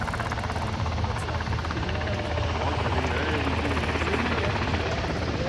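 A helicopter flies low along a shoreline, its rotor producing a steady, rapid thumping chop with engine whine, consistently loud and close throughout.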